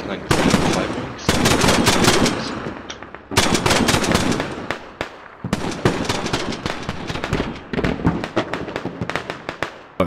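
Video game Squad, played on the Goose Bay invasion map: loud, close automatic gunfire pours out in long overlapping bursts of cover fire, broken by brief pauses before fresh volleys start again.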